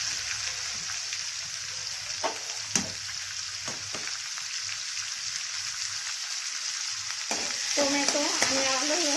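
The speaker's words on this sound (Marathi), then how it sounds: "तेल चांगलं तापलं गेलं आहे याच्यात एक टोमॅटो टाकून घेते" A tomato dropped into well-heated oil for dal bati sizzles and crackles steadily, with a few sharp pops and spatters, then a louder stirring burst near the end, close and without speech.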